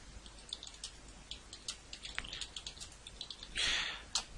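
Quiet clicking of keys on a computer keyboard, irregular taps at a close but faint level, with a brief louder rustle near the end.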